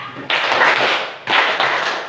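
Two sets of hand claps in a counted clapping exercise, each a sharp onset followed by a sustained, reverberant sound, with a second clap close after each, loud and near in a room.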